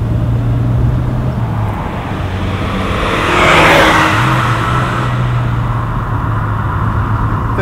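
An Alfa Romeo Giulia 1750 GTV 105-series coupe drives along, its engine a steady close drone that swells briefly near the middle as it accelerates, then settles back. No voices are heard.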